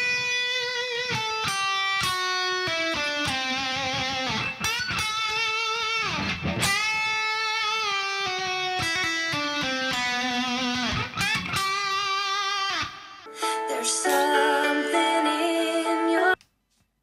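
Electric guitar played through effects picks a fast, bright melodic line with sustained, slightly processed notes, loud and continuous. The tone shifts near the end before it stops abruptly, with no talking.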